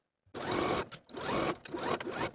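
A sewing machine stitches a 5/8-inch armhole seam on a Simplicity 9233 blouse, a steady close whirring run broken by one brief pause.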